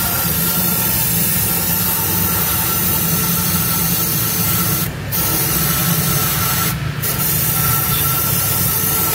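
Carburetor cleaner sprayed from an aerosol can into the intake manifold of a Kia engine, two short hissing bursts standing out over a steady loud running-engine drone.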